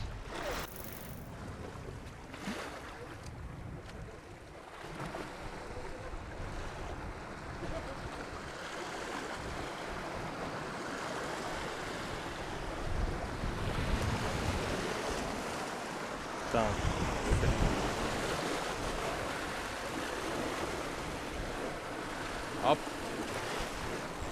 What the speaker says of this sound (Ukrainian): море штормить